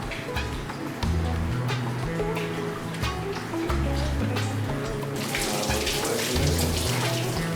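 Cold tap water pours over hot, freshly stretched cheese curd tied with string, a steady splashing stream that gets louder partway through, with someone talking over it.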